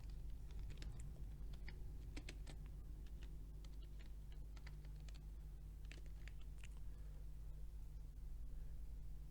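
Quick typing on a computer keyboard while writing text into a Microsoft Excel shape, a steady run of light clicky keystrokes over a faint constant hum, close and moderately quiet.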